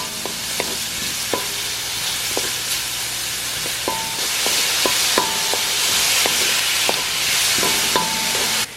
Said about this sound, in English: So I'm gonna cook this in my wok, and I'm gonna start by sauteing.